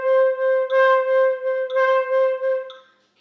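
A flute holds a single sustained tone with uneven vibrato pulses, the swells lurching in lopsided surges for about three seconds before fading out, played solo and close.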